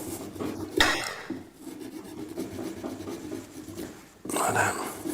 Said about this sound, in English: as I'm using this little serrated knife, I find it quite useful. Just try and cut the orange bit on the outside